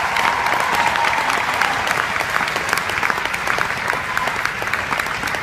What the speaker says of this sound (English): Right now, give yourself a round of applause for making the investment to be here.